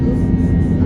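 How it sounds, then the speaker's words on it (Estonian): A small wooden propeller airplane's engine drones loudly and steadily from inside the cabin on a flight to Puerto Escondido, Mexico, as one continuous deep roar. "Puidust lennuk."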